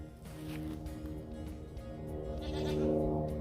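Baby goats on a small homestead bleat close by, their wavering cries overlapping in the foreground while the outdoor farm setting carries faint background noise; there is no speech.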